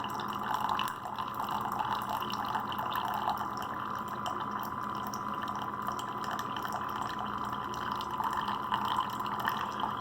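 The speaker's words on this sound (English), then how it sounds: "I just fill up that little cup I drink it out of and pour it in the top." Water pours steadily from a small drinking cup into the top reservoir of a Mainstay coffee maker, a continuous close trickling and splashing that lasts throughout without a break.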